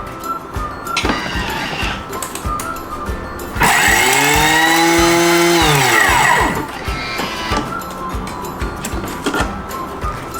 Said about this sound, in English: now we're gonna blend it and turn it into powder form